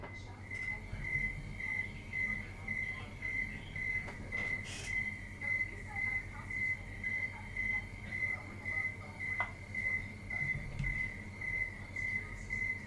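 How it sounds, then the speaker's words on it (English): Cricket chirping steadily in rapid regular pulses at a constant high pitch, heard over a live stream with low background hum and faint room noise. "the cricket can be heard on the stream"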